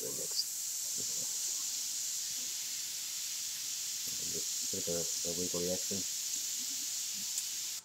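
An airbrush sprays white paint onto the eye of a Bogart portrait, producing a faint, steady high hiss that runs throughout, with someone speaking softly over it.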